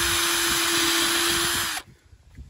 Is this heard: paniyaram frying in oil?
no